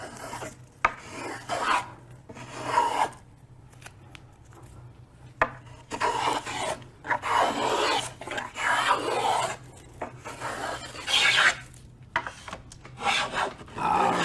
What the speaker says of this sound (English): I think that is all the planing that I now have to do